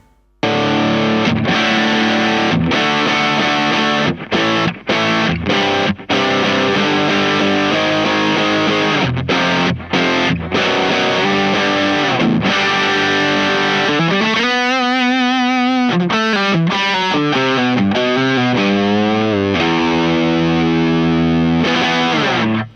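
Revolta Mondata VIII electric guitar on its bridge mini humbucker, driven through an IK Multimedia X-Drive distortion pedal, played as loud, thick distorted riffs and sustained chords with short stops, a warbling modulated passage midway, no talking.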